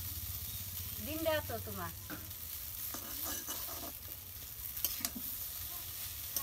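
Noodles and egg sizzle and get stirred in a home-style pan, a steady frying hiss with scraping stir strokes throughout, while a person talks over the cooking.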